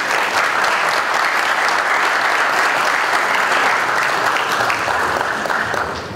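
A crowd at a motorsport awards ceremony, with season champions on the podium, breaks into loud, sustained applause that keeps an even intensity before easing slightly at the end.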